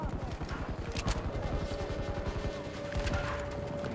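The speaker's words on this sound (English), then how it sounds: "that's a tank or a jeep or something firing at us" Rapid rhythmic gunfire from a tank or jeep in Battlefield 2042, a steady pulsing clatter of closely spaced shots with a faint tone running underneath, loud and fairly close.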